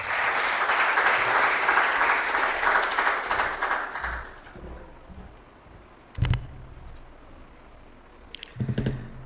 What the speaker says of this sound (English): I would now like to request Dr. Dayaji with a big round of applause